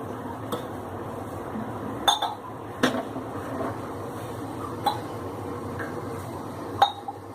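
A lid clinks down onto a pot of sprouted mung bean curry simmering on the stove: a few sharp metallic clanks spaced apart over a low, steady kitchen hum, with no talking.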